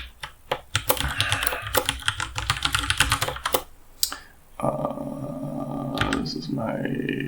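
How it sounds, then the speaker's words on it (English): Keystrokes clatter on a computer keyboard while someone live-codes, in rapid irregular bursts with brief pauses, close and clear; someone talks over part of it. "let's just start typing"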